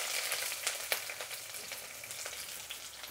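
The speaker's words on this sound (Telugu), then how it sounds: "ఆయిల్ వేడెక్కింది, ధనియాలు వేసుకుందాము. అలాగే ఎర్రగడ్డలు వేసుకుందాం." Coriander seeds and chopped onions fry in hot oil for crispy punugulu, a steady close sizzle and crackle with sharp pops as they hit the pan, no voices.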